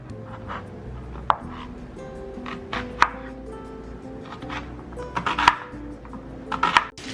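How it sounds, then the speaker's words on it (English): A knife chops onion on a board, several sharp irregular knocks, with a quick cluster of cuts near the end, close and clear with no talking. "Chop your onion."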